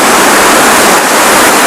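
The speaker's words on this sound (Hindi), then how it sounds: "काफ़ी ऊंचाई पर है ये लगभग मेरे हिसाब से 250 से 300 फीट ऊपर तक झरना है ये" A tall mountain waterfall, about 250 to 300 feet high, on the road between Srinagar and Sonprayag. It is a loud, constant, close-up roar of falling water with no voices.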